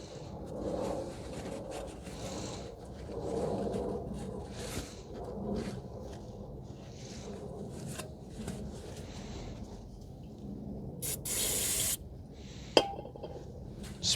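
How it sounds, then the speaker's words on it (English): Brake cleaner sprayed onto the brake parts of a 2012 Toyota Corolla 1.8: a short, bright aerosol hiss burst that stands out among scattered metallic clinks and handling noises of parts and tools nearby. "Spraying some brake cleaner to clean the debris out."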